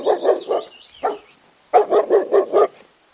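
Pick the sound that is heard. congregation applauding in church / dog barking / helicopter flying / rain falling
dog barking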